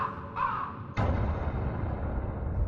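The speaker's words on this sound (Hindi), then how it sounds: "दिन में कौवों का काव काव करना समझ में आता है।" A crow caws at night as a horror sound effect: a short caw, then a louder harsh caw that trails off against a low background hum.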